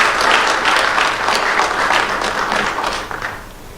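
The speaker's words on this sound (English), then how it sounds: "Kindly let us applaud Ambassador Simon Abukwesi." Audience at a high-level university panel discussion applauding, a loud dense burst of hand clapping from a room of people that holds steady and begins to thin out near the end.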